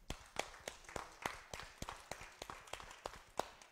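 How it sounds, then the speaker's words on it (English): Children at a library storytelling session clap in a quiet, steady rhythm of about three sharp claps per second, slightly distant and soft. "Will you give yourselves a massive clap?"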